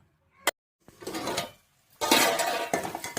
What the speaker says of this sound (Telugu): మూత పెట్టుకొని కాసేపు వేగనిద్దాం